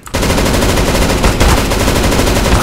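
Sustained rapid automatic gunfire on the Dust 2 map in a CS:GO free-for-all deathmatch, loud and close, a dense unbroken burst of shots with no talking.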